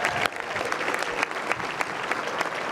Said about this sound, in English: one more round of applause for all our scholarship recipients